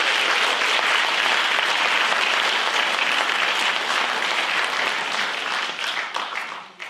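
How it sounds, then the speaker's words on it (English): Sustained, dense round of applause from an audience at a music awards ceremony for the nominees, loud and even throughout before tapering off at the very end. "So please give a round of applause to all our nominees."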